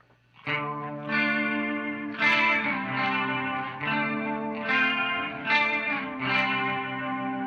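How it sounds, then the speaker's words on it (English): Electric guitar through a delay pedal with feedback, playing a series of ringing notes whose repeats trail and overlap with a chorus-like shimmer, loud and continuous with no voices. "The mix is really just telling you how much and how loud those repeats are going to be."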